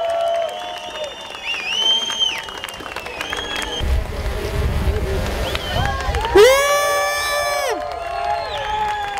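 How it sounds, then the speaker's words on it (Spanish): Crowd at a surf contest awards ceremony at Cabo Blanco claps and cheers, a broad wash of applause with whoops and whistles, amid chatter and amplified announcing. "¡Un aplauso!"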